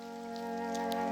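Steady rain falls outdoors where deer are being photographed, a continuous even patter alongside a constant tonal hum for the full second.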